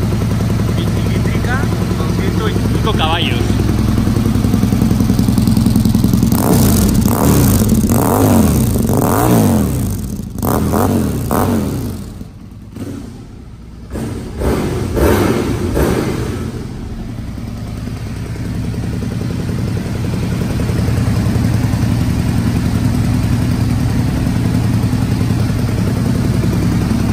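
A customized Aprilia Tuono 1000 with a 125-horsepower twin-cylinder engine idles loudly close by, is blipped in a string of sharp revs, drops away briefly, then settles back into a steady rumble, with someone speaking over it.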